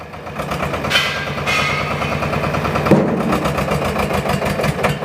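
A reaper harvester's engine runs loud and close with a rapid, rough pulsing beat, rising in a surge as the clutch is let out and the throttle opened, then holding at a steady hard rhythm.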